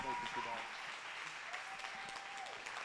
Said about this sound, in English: we need a little bit more of that applause